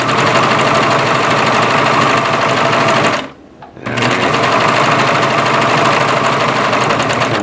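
A serger trims and finishes the edge of a blanket, a loud, fast, buzzing mechanical chatter running continuously up close, with one short pause midway before resuming at full speed.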